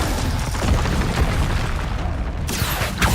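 Explosive Confringo spell blasts in Hogwarts Legacy, a loud, dense booming burst that rumbles continuously, with a sharp new blast near the end.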